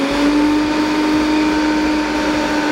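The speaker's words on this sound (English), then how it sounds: "So we're going to blend our oats and that goes into the blender as you can see." A blender grinds oats into oat flour in a loud, steady whirring drone with a constant motor pitch that runs unchanged throughout, with no talk.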